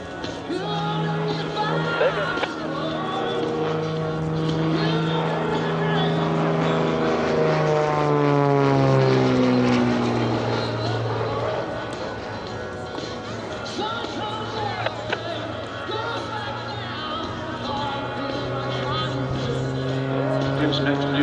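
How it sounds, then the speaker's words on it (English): A Beechcraft Bonanza flying aerobatics at an air show, its propeller engine droning loudly and continuously, the pitch sweeping down as it passes and then rising, with a commentator talking over it throughout. "Approaching from the right, aerobatic Bonanza, Gentleman Jim Peitz, here in South Dakota."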